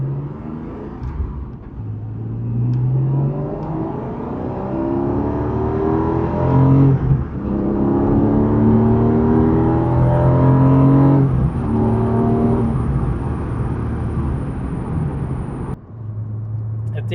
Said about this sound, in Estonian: see õhu sissevõtu heli tuleb, ütleme siuke 2500 pealt